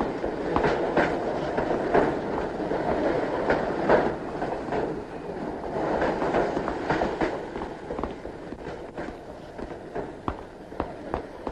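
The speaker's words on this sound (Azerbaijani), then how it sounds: "213 nömrəli qatar birinci yoldan, birinci platformadan yola düşür." A train departs from a railway platform, its wheels rolling in a continuous rumble with repeated clickety-clack beats over rail joints, loud and close throughout with no talking.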